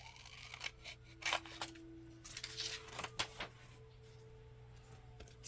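Scissors snip through craft material for a Wild West train journal design project, a few short crisp cuts spread over several seconds against a steady low background hum, close and fairly quiet.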